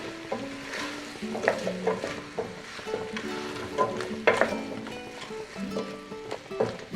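Parsnip and apple pieces stirred through butter in a pan, with repeated scraping strokes of a utensil over a soft, steady sizzle, close and moderately loud, with no talking.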